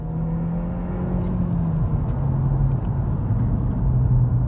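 A stage 1 SEAT Leon Cupra Mk2 pulls hard on a damp road with its front wheels spinning, heard from inside as a steady loud engine drone and road rumble with a tone that climbs and shifts.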